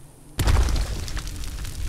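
A Skyrim Gravel spell from an earth magic mod erupts into a loud spraying burst of earth and rubble, a sharp onset followed by a sustained gritty rush for over a second.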